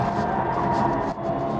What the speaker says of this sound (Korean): 계속 이제 타이어 비명 소리가 들리면서